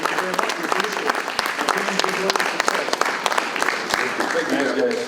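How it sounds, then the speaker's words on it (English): An audience at a city State of the City address applauds steadily for several seconds, dense clapping filling the room at close range, with voices mixed in beneath it. "Round of applause, you guys."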